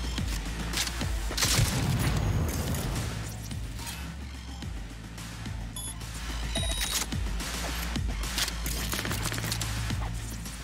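In the video game Cyberpunk 2077, loud booming blasts and crashes from a car being blown up roll through dense action audio, with repeated heavy thuds and debris-like clatter over about ten seconds and no talk.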